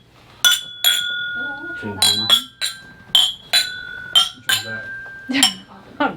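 Two glasses of rum chime against each other again and again, each clink ringing out bright and sustained before fading, with a person speaking between the taps.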